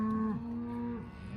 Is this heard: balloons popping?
no